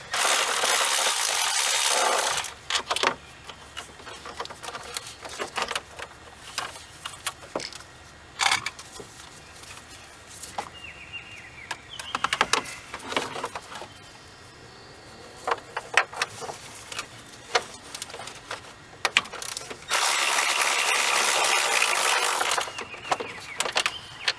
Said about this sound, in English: let's get these 15mm bolts out of here.